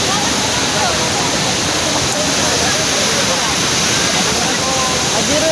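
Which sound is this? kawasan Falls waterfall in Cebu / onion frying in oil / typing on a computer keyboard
kawasan Falls waterfall in Cebu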